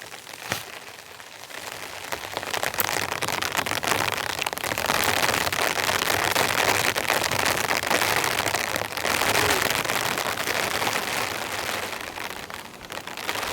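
Heavy rain pours down at a tent campsite, a loud, steady hiss of drops drumming on a tarp and tent that builds after a quieter start and holds for the rest of the clip.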